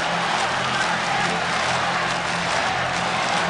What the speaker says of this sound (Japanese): 場内のこの歓声は